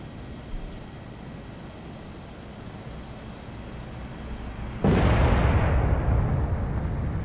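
Missile strikes and explosions in the Cold Waters submarine game start as a steady low rumble, then a sudden loud blast hits and holds as a heavy roaring wash through the final seconds.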